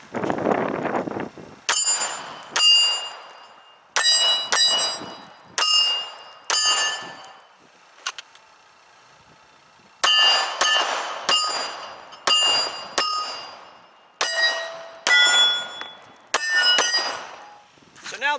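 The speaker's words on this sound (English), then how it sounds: "I'm going to fire a few rounds at some of the steel down there" A compact 9mm pistol fires about a dozen shots at steel targets outdoors, each sharp crack followed by a bright metallic ping from the plates, spaced in irregular bursts with pauses and wind noise between.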